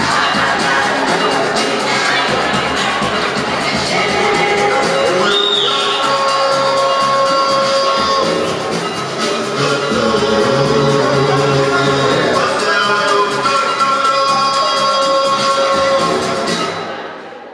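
A crowd at a Form Six graduation at Eloni Secondary School applauds and cheers for a student in long, sustained clapping and shouting, with scattered whistles and whoops that stays loud throughout before cutting off.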